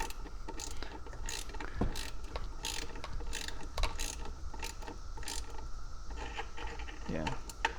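A Navegando no-skip flex-head ratcheting wrench works a bolt, giving a steady run of close, sharp mechanical clicks with small clunks, close up and alone.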